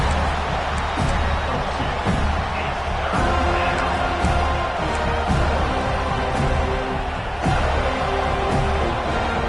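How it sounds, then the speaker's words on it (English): A large stadium crowd at a college football game roars steadily throughout, a dense, continuous wall of cheering and noise with no clear pauses. "This crowd is trying to inspire this defense to make a big red zone stop."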